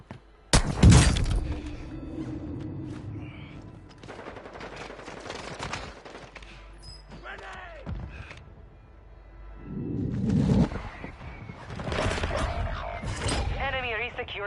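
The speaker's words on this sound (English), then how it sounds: "There's another one shooting at me." Gunfire in the video game Call of Duty Warzone 2 crackles in sharp bursts and scattered shots, some loud and close and others fainter, with quieter gaps between volleys.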